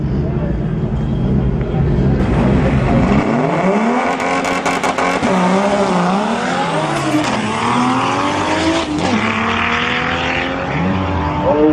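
Race cars at Tarlton Raceway, engines roaring and revving loudly with rising and falling pitch as they slow and accelerate through the track, tires squealing, while a commentator talks over the racing.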